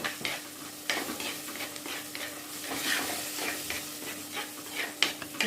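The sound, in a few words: stirring mixture in pan on low flame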